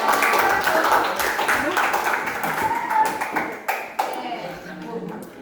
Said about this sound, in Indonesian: kita beri tepuk tangan dulu untuk kelompok 3